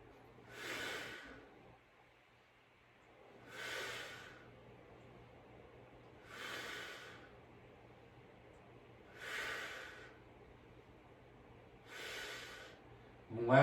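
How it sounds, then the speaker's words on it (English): Five slow, evenly spaced breath exhales, breathy hissing puffs during standing beginner weight training repetitions, close and fairly soft over a low room hum. "Breathe out as you come up."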